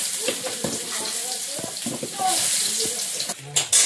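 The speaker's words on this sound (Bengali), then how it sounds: "কচুর একটা আলাদা গুরুত্ব দেওয়া হচ্ছে, আগে আলাদা করে ভেজে নেওয়া হচ্ছে" Pieces of taro fry in a pan before going into a fish curry, giving a steady sizzling hiss that grows louder partway through, with voices talking over it.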